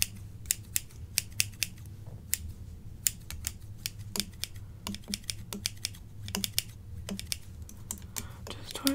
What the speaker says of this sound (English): It's just more efficient to use these really sharp scissors.